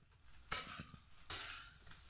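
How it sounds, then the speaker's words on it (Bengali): Rice being stir-fried for breakfast, with a steady bright sizzle in the pan and two sharp scrapes of a spatula about a second apart. "এই দেখো আমার মেয়ে সকালের ভাত ভাজা বানাইতেছে"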